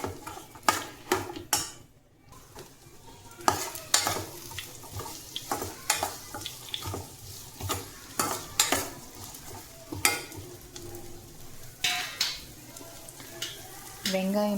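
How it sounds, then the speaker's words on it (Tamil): Chopped onion sautéing in a pan for wheat rava upma, a soft sizzle under repeated sharp scrapes and clinks of a spoon stirring against the pan, while someone talks throughout. "வெங்காயம் பொன்னிறம் ஆகிற வரைக்கும் வதக்கிக்கணும்."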